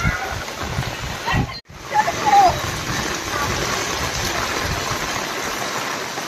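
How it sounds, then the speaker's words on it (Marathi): Heavy monsoon rain pours and splashes steadily onto a flooded road in the Konkan countryside, with water running across the surface, a loud continuous hiss broken by a brief drop near the start. "किती जोरात पाऊस येतोय"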